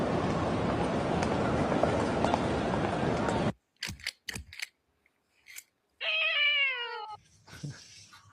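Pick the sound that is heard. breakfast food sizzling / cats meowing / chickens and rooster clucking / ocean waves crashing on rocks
cats meowing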